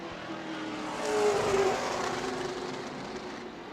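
Sportsman group race cars on the final lap of qualifying at New Smyrna, a steady engine roar that swells as cars pass nearby, then settles into a sustained drone.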